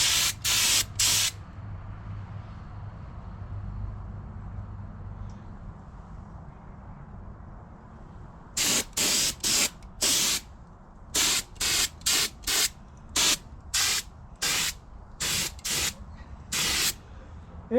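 Short bursts of spray paint hissing onto 1972 Honda CB500 Four motorcycle parts: three quick blasts, a pause with low background rumble, then a rapid run of about a dozen close, loud sprays.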